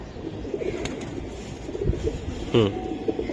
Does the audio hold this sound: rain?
no